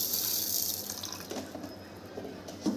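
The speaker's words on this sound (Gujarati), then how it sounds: "આપણે 2 વાટકી જેટલું અંદર પાણી નાખવાનું છે" Water from a tap runs steadily into a pressure cooker holding chickpeas for boiling, a continuous close splashing pour that eases slightly toward the end, with no talk over it.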